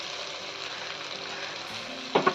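Spice paste sizzles in hot oil for a fish-head and cabbage curry made with katla fish head, a steady soft frying hiss with a couple of brief stirring knocks near the end.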